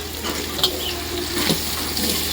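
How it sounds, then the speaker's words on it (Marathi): Tomatoes, a kilogram of them, added to hot oil over browned onions, bay leaf, cloves and pepper for Pandharpuri biryani, frying with a steady close sizzle and soft stirring scrapes. "आता टमाटे 1 किलोवर टाकायला लागले."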